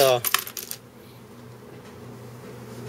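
Old pennies from metal detecting finds in Hawaii being sorted by hand, a quick burst of clinking, jingling coins at the start, then near-quiet room tone.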